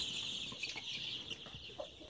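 Young Ciumas chicks clucking and peeping in a crowded box, a steady, close chorus of soft high chirps with no talk.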